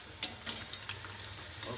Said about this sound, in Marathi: मिडियम गॅसवर भाजले ना तर मस्त भाजतात.